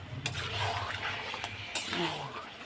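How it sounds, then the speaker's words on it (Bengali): Water poured into a cooking pot of frying egg curry, a brief splashing gush with soft bubbling and clatter, fairly quiet in a home kitchen. "তা চলো জলটা দিয়ে দিই আর একটু দেবো জল"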